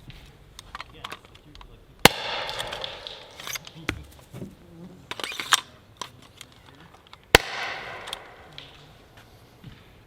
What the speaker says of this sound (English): I'll fire 2 shots so you know what the firing sequence is like.